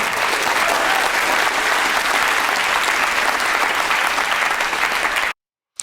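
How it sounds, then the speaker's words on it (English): Stand-up comedy audience breaks into loud, sustained applause with cheering from a large crowd, filling the room evenly before cutting off abruptly near the end. "That was a decent enough applause break to fucking move on from him."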